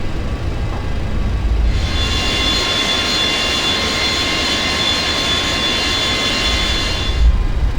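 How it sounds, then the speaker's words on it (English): A FlyJSim Boeing 737-200 jet taxis in the X-Plane flight simulator, its engine whine rising into a steady high hum that holds loud and close, then drops away near the end. "We're going to then taxi all the way to the end of the runway, 30 left"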